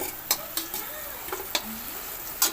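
Potato pieces frying in oil in a pan for a Bengali fish curry, giving a quiet steady sizzle broken by a few sharp clicks and scrapes of stirring, with no talk.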